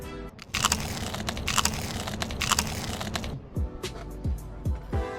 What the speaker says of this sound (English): I want you to hear this crunch.